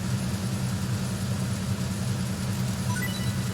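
Loud, steady boat engine from Metal Gear Solid 2, set on the Hudson River, a constant low drone and rumble running unbroken throughout with no voices.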